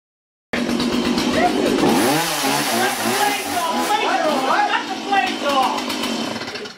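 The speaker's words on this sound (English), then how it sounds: "uses the chainsaw to literally cut it in half" A chainsaw engine revs loud and close as it cuts an Xbox console in half, its pitch rising and falling with the cut while voices shout over it.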